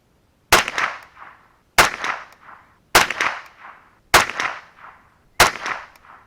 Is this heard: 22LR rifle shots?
yes